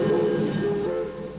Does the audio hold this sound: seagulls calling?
no